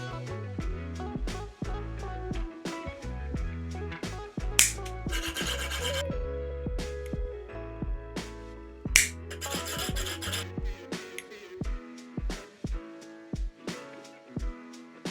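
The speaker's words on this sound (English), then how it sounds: "It's obviously a pretty rough edge, so I just like to go in here and sand it down" A rough edge on the threads of a Seiko watch part is sanded down in two short, close, raspy bursts of rubbing, each lasting about a second and a half, with steady background music playing underneath.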